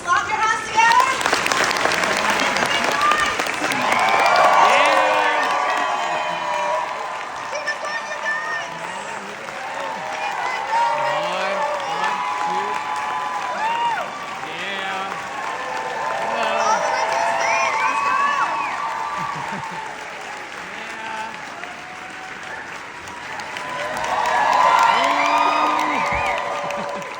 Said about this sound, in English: Okay, now slap your hands together.